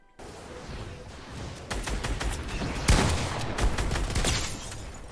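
Rapid gunfire from a minigun in the video game Fortnite, a dense fusillade of quick shots that runs steadily for about five seconds and swells louder partway through, with no talk over it.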